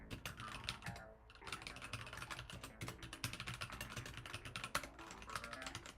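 Rapid clicking of a computer keyboard during early-morning Python coding, irregular bursts of close keystrokes with a short pause early on, no talking.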